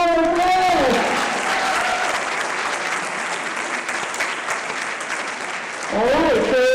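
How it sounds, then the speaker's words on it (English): Audience applause at a school track and field finals prize giving, a steady burst of clapping lasting several seconds, with voices talking briefly before and after. "Please give out a round of applause."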